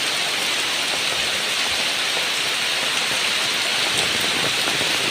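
Heavy rain pours down over a village in Bogura district, a dense, unbroken hiss of water striking surfaces close by, steady and loud throughout with no voices.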